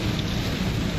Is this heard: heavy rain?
yes